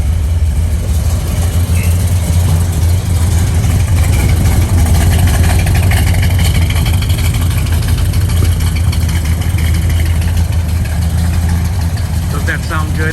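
A 1970 Chevrolet Chevelle with a four-speed sits idling, its engine giving a loud, deep, steady rumble close by for the whole stretch without revving.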